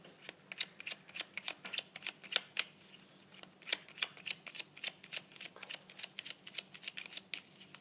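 A deck of tarot cards being shuffled in a steady run of quick riffling flicks and soft slaps, close and fairly quiet, with no one talking.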